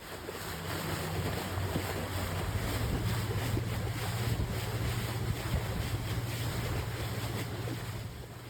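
Small whale-watching boat out on the sea off Panama, engine droning low and steady under constant wind buffeting the microphone and splashing water, loud and close throughout.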